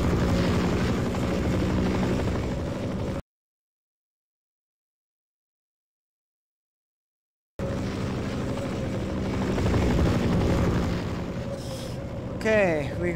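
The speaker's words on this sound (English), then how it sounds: "Wait, the helicopter is back." A steady, throbbing video-game helicopter rotor drone, broken by several seconds of complete silence midway, then resuming just as loud.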